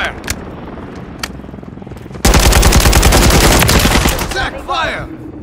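Sustained automatic bursts from a Kastov-762 assault rifle in Call of Duty MW3 on the Shoot House map, very loud and close: a dense rattling stream of shots after a quieter start with a few isolated cracks and brief radio-style chatter.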